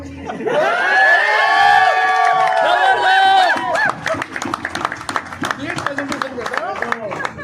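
A small audience at a car delivery gathering gives loud whoops and cheers, then scattered clapping, fairly close, with people talking over the applause.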